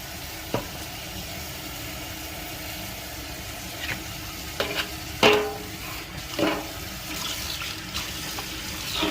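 Tap water runs over thawed catfish nuggets in a foil pan. A low, steady wash is broken by several sharp splashes and crinkles as the pieces are rinsed.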